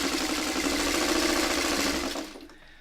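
A sewing machine runs steadily while stitching a four-patch quilt block of 2.5-inch squares, a loud continuous mechanical whir that stops and fades near the end.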